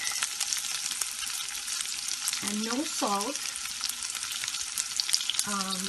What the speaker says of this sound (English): I'm going to be frying it while I do the meatballs.